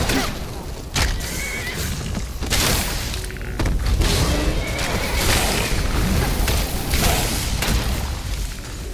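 Horse neighing in the Skyrim video game, a whinny rising over dense, continuous game sounds with low booms and thuds, loud and close throughout.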